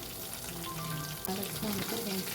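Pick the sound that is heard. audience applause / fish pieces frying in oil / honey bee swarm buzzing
fish pieces frying in oil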